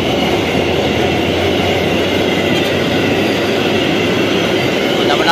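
Long freight container train rolling past nearby, a loud continuous rumble and rattle of wagons with faint clacking and occasional squeal, steady throughout.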